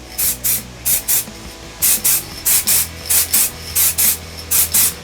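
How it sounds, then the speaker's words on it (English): Aerosol paint hisses in short, even bursts as light coats are sprayed onto standard brake parts from a Polo GTI track car build, about a dozen close, evenly spaced sprays with brief pauses between. "And let's just start giving it light coats."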